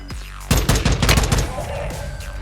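A John Wick 2 style gun fires in a video game: a rapid burst of loud, close shots in quick succession that tapers into a fading echoing tail, with no speech over it.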